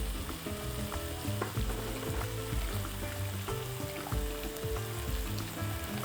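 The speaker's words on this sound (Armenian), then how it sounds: "Ծաղկաբույլերի վրա լցնում ենք եռացրած ջուր" Boiling water is poured over broccoli florets in a cooking pot, a close, hissing, bubbling stream with scattered splashes and clinks, with no voices.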